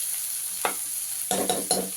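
Onions frying in a pan for Telugu-style curd vada, with a steady faint sizzle and a few soft stirring scrapes near the end, close and without talk.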